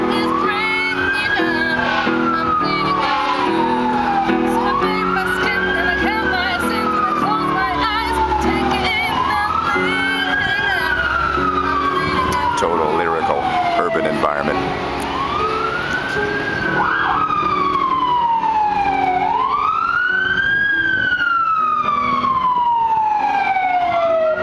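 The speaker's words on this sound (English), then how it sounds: "A siren, urban chorus in the background." An emergency siren wails in repeated rising and falling sweeps over a busy Boston city background of traffic rumble, fairly loud and steady.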